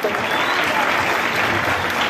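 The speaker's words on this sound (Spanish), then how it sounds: "Ese es el aplauso del público." Audience applause at a band festival, dense and steady clapping from a large crowd throughout, loud and continuous with no pauses.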